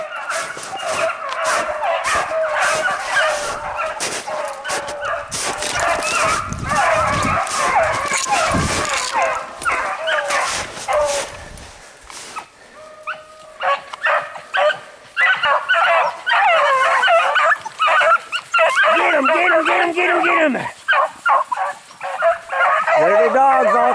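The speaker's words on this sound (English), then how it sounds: "There's the dogs all coming through on them." A pack of hounds hunting a hare bays and barks continuously, many voices overlapping at close range, with yelps and whines rising and falling.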